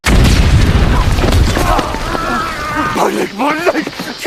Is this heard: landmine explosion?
yes